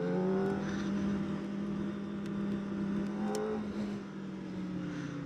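Kawasaki ZX-4RR 2024 motorcycle engine holding high revs, a steady buzzing whine with rising and falling pitch while riding, moderately loud and continuous with no talking.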